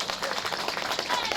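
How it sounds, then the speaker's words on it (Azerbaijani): An audience at a Novruz gathering breaks into steady, dense applause, many hands clapping together in a continuous patter that fills the room. "Gelin bunu ürəkdən alqışlayaq"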